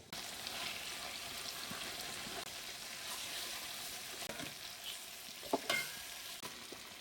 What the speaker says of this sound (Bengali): আমি এভাবে বাকি সবগুলো চিকেন ফ্রাই করে নিচ্ছি তবে এই সময় চুলার আঁচ কিন্তু অনেক বেশি থাকতে হবে